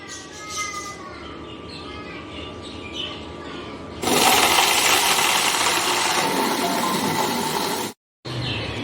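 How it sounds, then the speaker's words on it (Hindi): Kitchen mixer grinder blending falsa fruit for juice: after a few seconds of quiet household noise the motor kicks in with a loud, steady, high whirring roar that runs for about four seconds, cuts out briefly, then starts again. "अब हम इसको करेंगे ग्राइंड।"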